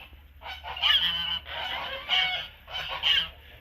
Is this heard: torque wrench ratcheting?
no